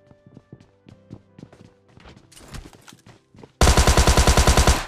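Quiet footsteps and small sounds in PUBG Lite give way to a sudden loud, close burst of rapid automatic gunfire, evenly spaced shots filling the last second or so.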